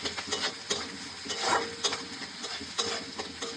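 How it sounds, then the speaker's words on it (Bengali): Chopped onion and green chili frying in hot oil with a pinch of turmeric, a light crackling sizzle broken by several sharp scrapes of a spatula stirring the pan, close and fairly quiet. "তারপরে পেঁয়াজ লঙ্কা দিয়ে দেবো কুচি, এটা একটু ভেজে নেবো।"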